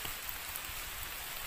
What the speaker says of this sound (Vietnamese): Nước mưa chảy ròng ròng này, này.